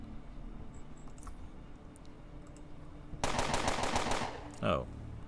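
Rapid automatic gunfire from the game Underrail erupts after a quiet stretch of faint clicks, a dense loud burst of shots lasting about a second, followed by a short resonant thump.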